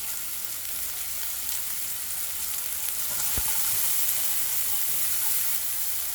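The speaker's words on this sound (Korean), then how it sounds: "미트볼을 제거한 팬에다가 바로 오일을 조금 부어주시고요. 아까 다진 마늘, 양파를 넣어 주시고요." Minced garlic and onion fry in a little oil in a pan just emptied of meatballs, giving a continuous loud close sizzle with one sharp knock partway through, no talking.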